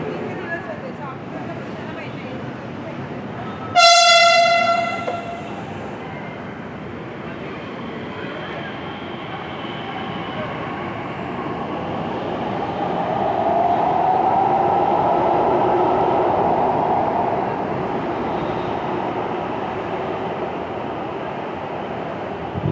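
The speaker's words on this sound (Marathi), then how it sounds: "आता ही गाडी जाते डेपो मध्ये" A Pune Metro train pulls out toward the depot with a sharp multi-tone horn blast, then a steady rumbling roar of wheels and motors rising and fading at close range while someone talks.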